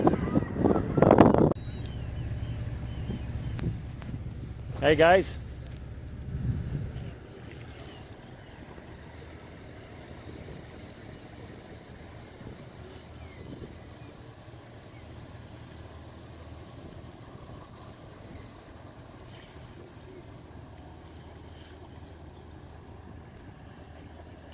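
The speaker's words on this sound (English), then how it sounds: "It's a cruise boat." A small cruise boat's engine drones steadily with wind noise over the microphone off Scotland's west coast; a voice and handling noises break in early, then the low hum continues.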